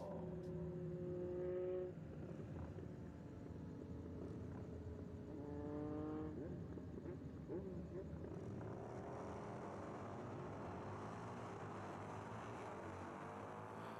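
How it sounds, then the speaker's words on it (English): Harley-Davidson motorcycles launch down a drag strip and pass a trackside camera, engines surging and sweeping in pitch. Their roar stays faint and distant after an announcer's voice in the first half. "Couple of Harleys taking off down the black track, passing our camera."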